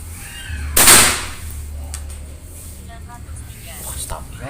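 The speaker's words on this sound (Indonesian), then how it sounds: "Tembakan ketiga." An air rifle firing a 10.5 grain pellet gives one sharp, loud shot with a hissing burst of air. It is near the mic and fades quickly into low room noise.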